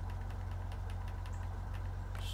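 A truck engine idles steadily in SnowRunner, a low, constant rumble with a faint knocking pulse throughout.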